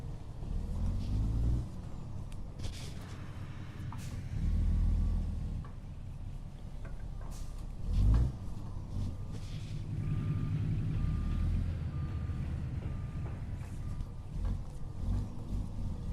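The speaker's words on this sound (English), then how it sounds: "walk this trailer back in there so I have room to swing the truck" Truck backing a trailer, a low rumbling engine that swells and eases over a long stretch, with a faint repeating reversing beep running through it.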